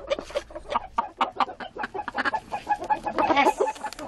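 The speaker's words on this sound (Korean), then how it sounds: "할아버지가 정성 들여 키우는 닭들 때문이죠" A flock of around thirty farm chickens raised by an elderly grandfather clucks busily and continuously, dense overlapping close calls with no speech.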